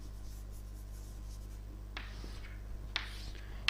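Writing on a board during a lecture: a few short scratchy marker or chalk strokes over quiet room hum, with brief taps near the end.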